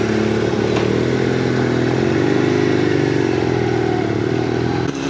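A motorcycle rides along a road in Thailand, its engine a steady close-up drone with slight pitch shifts as it holds speed, wind rush and faint clatter over it, no talk.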